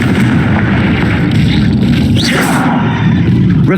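Confringo fire spell blasting in the video game Hogwarts Legacy, a loud, continuous explosive roar with rumbling bursts filling the whole moment, no voices over it.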